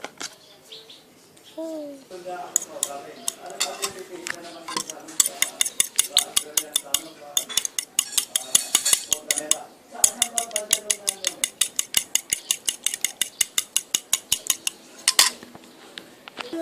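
Eggs cooking in a pan for breakfast, with dense rapid clicks and scraping like utensils on cookware, a steady sizzle-like hiss, and a person talking early on.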